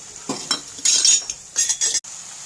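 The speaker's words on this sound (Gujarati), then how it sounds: "હવે એમાં આપણે ડુંગળી ઉમેરી દઈશું, એને પણ આપણે હલાવવું પડશે ઘડીક" Onions are stirred in a pan for a Gujarati garlic curry, a utensil scraping and clinking against the metal in several short bursts with faint frying sizzle between them, close and fairly loud, with no talk.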